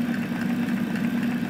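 An old SUN distributor tester spinning an Oldsmobile 4-4-2 distributor at around 200 RPM, giving a steady low mechanical hum with a faint rattling whir, even and continuous, without any talking.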